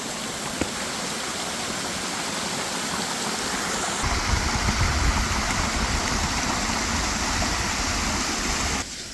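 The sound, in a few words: creek water flowing into a hole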